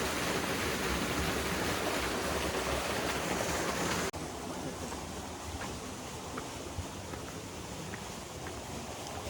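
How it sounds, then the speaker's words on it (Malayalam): A waterfall at Amboori near Trivandrum roars as a steady, dense rush of water that stays loud and even, easing slightly partway through, with no voices. "ഇതാണ് ഇവിടെ വെള്ളച്ചാട്ടം."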